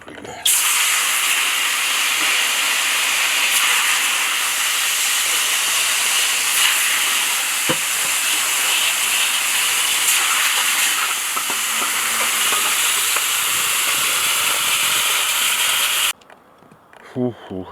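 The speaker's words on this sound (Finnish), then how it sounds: "Laitetaanpas kameralinssi höyryyn." Steam hisses loudly and continuously inside a tent sauna pitched outdoors in freezing winter, a dense close-up rush that runs unbroken for about sixteen seconds before cutting off to near quiet.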